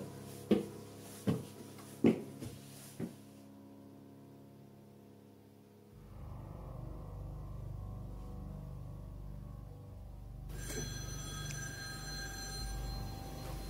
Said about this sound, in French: Il y a un téléphone qui vient de sonner.